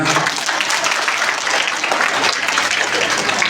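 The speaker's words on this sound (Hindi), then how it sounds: "इन नन्हे मुनि भैयाओं के लिए एक बार जोरदार तालियां" An audience at a school annual function gives loud, dense applause for young boy performers, an even, unbroken patter of many hands lasting the whole moment.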